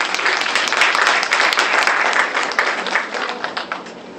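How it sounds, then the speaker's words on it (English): A symposium audience gives loud, sustained applause, many hands clapping together before the sound slowly thins out at the end. "Can we all clap for management?"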